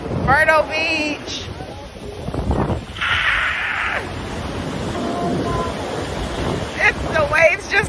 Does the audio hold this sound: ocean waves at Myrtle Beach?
yes